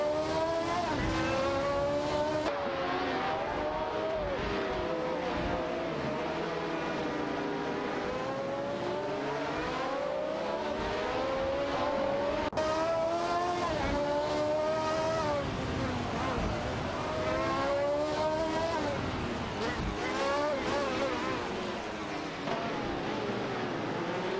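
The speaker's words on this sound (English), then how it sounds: "Sindrik driving the Fittipaldi FD03 and Newcambocken behind the wheel of a Ferrari 312T" A Fittipaldi FD03 and a Ferrari 312T race in a video game, their high-revving engines whining up and down through gear changes in a long continuous stream while a commentator talks over them.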